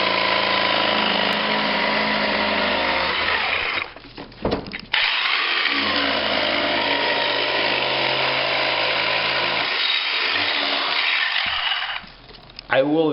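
A jigsaw cuts a doorway transition piece with a loud, steady buzzing whine, stopping briefly twice between cuts.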